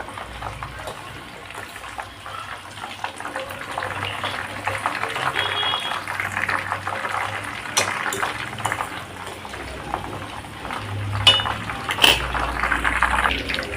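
Ingredients frying in oil over a medium flame, a continuous bubbling sizzle with occasional clinks of pan and utensil, steady and fairly close, with a voice heard faintly at times.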